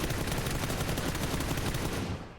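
Rapid automatic gunfire from a weapon sprayed at an enemy in PUBG, a loud, dense and continuous burst of shots that fades slightly at the end.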